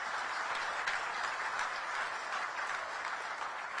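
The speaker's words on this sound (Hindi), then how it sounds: "एक बार चलो ऐप बनाने वाली हमारी बहन के लिए जोरदार तालियां।" Applause from a crowd at a Delhi inter-state bus and PoS machine launch event, a dense, steady clapping held at moderate level throughout without a break.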